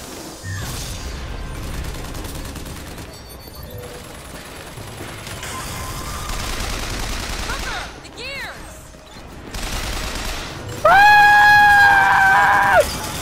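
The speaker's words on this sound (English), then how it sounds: "A fucking minigun?" Minigun fire in the video game Bioshock Infinite: sustained rapid mechanical gunfire and whirring over several seconds, with shrill tonal whines and a loud burst near the end.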